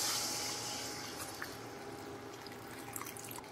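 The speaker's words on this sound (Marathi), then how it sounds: "आधी पाणी घालून घ्यायचं।" Water is poured into a pan of Maharashtrian misal masala holding boiled moth beans, a soft continuous splashing hiss that fades slightly after the first second, faint and alone with no talk.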